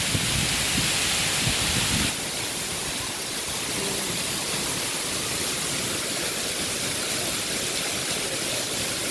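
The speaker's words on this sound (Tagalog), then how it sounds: "Standing position kami ngayon sa lakas ng ulan." Heavy storm rain pours down in a park as a dense, steady hiss, loud and close, briefly rougher at the start before settling into an even roar.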